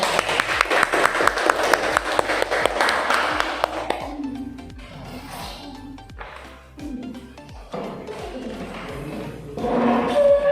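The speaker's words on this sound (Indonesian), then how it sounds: "Tepuk tangan untuk kelompok" Applause for a student group in a classroom discussion session, sharp dense clapping at first that thins into scattered claps and thumps, then rises again toward the end.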